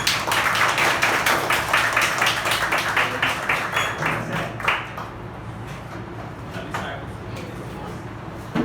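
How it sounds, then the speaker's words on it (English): Moot court audience at a coaching class claps in a dense burst of applause that thins out after about five seconds into scattered claps, with voices murmuring underneath. "big round of applause for all of you guys."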